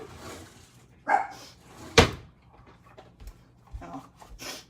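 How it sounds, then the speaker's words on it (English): A dog barks indoors in a home kitchen: a few short, separate barks, one sharp and loud, with quieter room noise between them and no talking. "I don't know what my dog's barking at."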